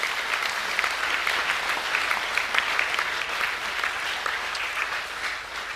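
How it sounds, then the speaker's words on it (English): Steady, dense round of applause from a school assembly crowd, many hands clapping evenly and fairly loud throughout with no voices on top. "Yep, round of applause."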